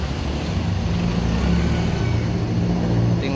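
An ALS intercity bus sits idling at its Bogor depot, its diesel engine producing a steady, loud, low rumble that holds constant throughout, with no voices.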